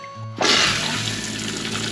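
Water rushes suddenly into a camper's sink and drains loudly through the plumbing, a close, steady gurgling wash that continues without a break.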